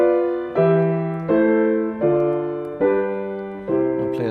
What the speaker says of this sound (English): circle of fifths in G, all root position chords